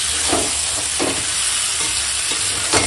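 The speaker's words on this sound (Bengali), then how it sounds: "শুধু এরকম উপর নিচে করে একদম দমদার কষানো হচ্ছে" Spices stir-frying in a pan with a loud, steady sizzle and hiss, broken by a few scraping stirs of a spatula turning the masala over.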